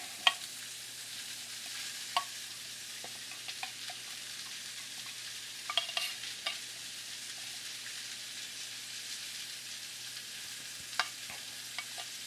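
Condensed canned tomato soup being stirred into a burger meat mixture, a soft, wet squelching and scraping in a bowl with occasional sharp clicks, faint and close, no one talking.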